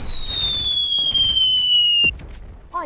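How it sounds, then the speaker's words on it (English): A rising whistling whoosh of an RPG rocket in flight in a video game, sliding steadily down in pitch for about two seconds before ending in a sharp impact, followed by a brief chirp. "I'm gonna shoot an RPG at that wall."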